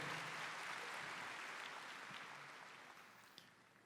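Congregation applauding during a Catholic Mass homily, a soft, distant wash of steady clapping that gradually tapers off.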